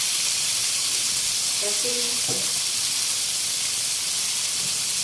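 Chicken pieces go into a hot pan and sizzle with a loud, continuous close frying hiss throughout, with a brief spoken word near the middle.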